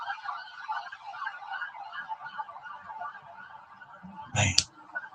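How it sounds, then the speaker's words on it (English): Many emergency vehicle sirens wail together from down the road, a wavering, layered tone heard at a distance, steady and moderately loud, with a brief close thump near the end. "Listen, can you hear those sirens?"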